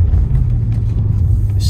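A 2007 Bentley Continental GT 6.0 driving along, a deep steady engine and road rumble heard from inside the cabin, smooth and continuous with no talking.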